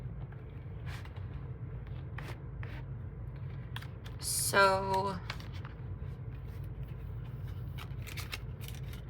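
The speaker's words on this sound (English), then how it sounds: "I'm gonna shuffle" A quick riffle of playing cards, a brief fluttering burst in the middle, surrounded by low room hum and a faint spoken word.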